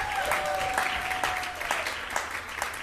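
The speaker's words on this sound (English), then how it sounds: "how about another round of applause for Robyn Maynard?" An audience applauds at a live talk show, sustained clapping at a steady level with a few sharper claps standing out and a short whistle near the start.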